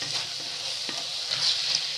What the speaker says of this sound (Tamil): எண்ணெயிலேயே வெங்காயம், பூண்டு, இஞ்சி எல்லாம் சேர்த்து நல்லா வதங்கினேங்க.